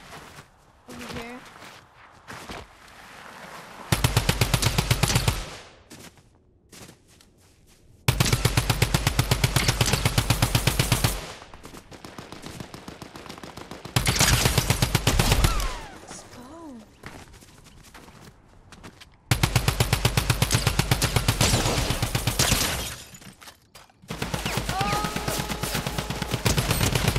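Repeated bursts of rapid automatic drum gun fire in a video game, several long volleys separated by quieter gaps with footsteps and light clatter, loud and close.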